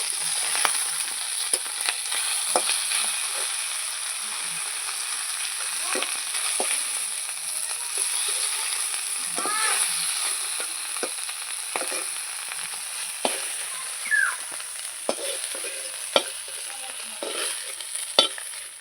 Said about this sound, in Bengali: এইভাবে আমি সবগুলো ভেজে নেবো